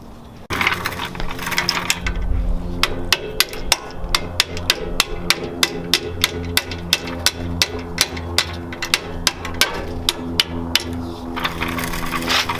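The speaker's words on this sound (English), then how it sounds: "tap it out with a hammer." A hammer taps out a suspension bolt on a Lexus GX470 during a lift kit install. The sharp metallic strikes come in a steady, rapid series of about two dozen close, ringing hits under a background hum, with no talking.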